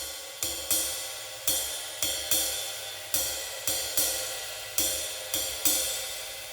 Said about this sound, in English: the skip beat is also sometimes referred to as the spang-a-lang